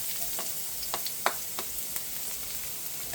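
Garlic (bawang) sizzles in hot canola oil, a steady faint frying hiss with a few brief stirring clicks and pops scattered through it; no voices.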